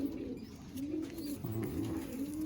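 Madrasi pigeons coo softly in a loft, with low, rolling calls repeating a few times at moderate distance and no voices.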